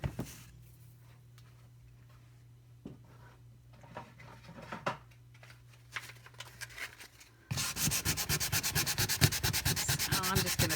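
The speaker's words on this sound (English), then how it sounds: "I just did a little bit of sanding on mine to get the printing off of it." A canvas frame is sanded to remove its printing: faint scattered handling noises at first, then a sudden stretch of fast, dense back-and-forth abrasive rubbing, close and steady to the end.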